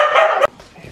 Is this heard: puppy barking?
yes